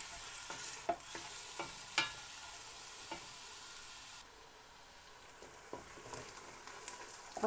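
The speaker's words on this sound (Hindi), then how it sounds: "प्याज को हम हल्का ब्राउन कर लेंगे।" Onions sizzling in hot oil inside a pressure cooker, a steady soft frying hiss broken by repeated scrapes and clinks of a spoon stirring, fairly quiet and close, with no talking.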